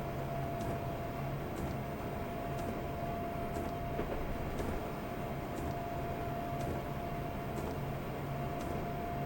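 A Class 360 electric multiple unit in a train simulator runs along the line from Shenfield toward London, giving a steady rumbling rail hum with a constant electric whine and faint rhythmic clicks of wheels over track joints.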